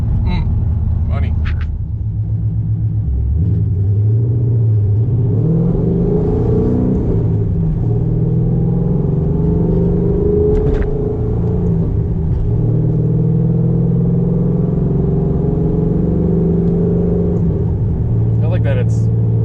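Inside a 2007 Mustang GT fitted with a swapped Coyote V8, the cabin carries a steady low engine drone and road rumble while cruising, with a voice speaking over it.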